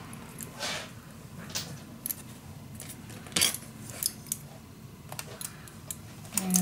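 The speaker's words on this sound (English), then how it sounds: "I'm gonna use a little clamp, keep it all on its place, and then I'm just gonna cut it" Craft cardboard held in place with a small clamp is cut with crisp clicks and snips, a few sharp ticks spaced unevenly and a louder crunch near the end, close and quiet with no talking.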